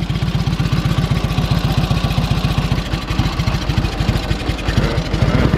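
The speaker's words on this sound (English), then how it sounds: "The warmer it gets, the slower that idle will get." A 1946 Indian Chief antique motorcycle engine idles while warming up, a loud, close, steady run of rapid low thumps with a slightly uneven beat and no one talking.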